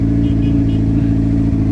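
A car engine revving loudly and close by, a steady heavy rumble for under two seconds with a faint voice briefly under the engine noise.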